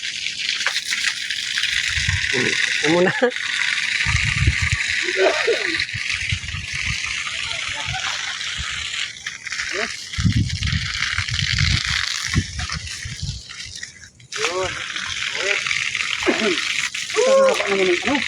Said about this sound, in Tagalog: Ayan na. Ayan na yung tubig.